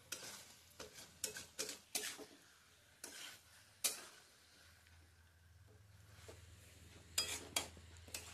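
Chicken cooking in a pan for a Bengali vegetable chicken curry, sautéed while a spoon scrapes and stirs in sharp, irregular strokes over a soft, steady sizzle, fairly close and quiet.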